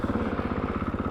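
A supermoto motorcycle engine runs up close with the clutch pulled in, giving a loud, rapid, steady throbbing pulse with a buzzy mechanical edge and no voices over it.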